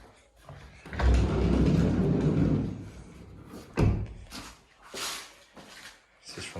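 A newly hung door with a plywood-pelmet-covered mechanism on a renovated building in Dominica is opened and closed, giving a long rumbling slide followed by a sharp thud and a few lighter knocks nearby.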